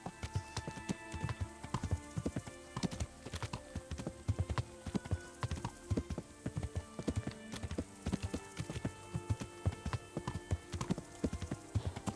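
A horse in Kingdom Come: Deliverance gallops in a steady, rapid clip-clop of hooves that carries on alone for about twelve seconds, fairly quiet.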